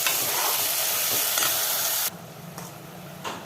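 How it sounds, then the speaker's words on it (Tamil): Ridge gourd and onions frying in a pan while being stirred, a loud, dense sizzle that drops abruptly to a quieter crackle, with a couple of scraping stirs near the end. "இப்போ நம்ம பீர்க்கங்காவை அலசினதை இதில் நம்ம போட்டுடலாம். எல்லாத்தையும் போட்டுட்டு ஒரு கிண்டி விட்டுருவோம்."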